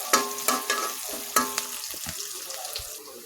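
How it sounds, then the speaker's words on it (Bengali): Onions frying in a pan, with sharp stirring clatters against the metal and a soft sizzle underneath, close and fairly quiet, with no talk. "আমি লাল লাল করে ভেজে নেব পেঁয়াজগুলো।"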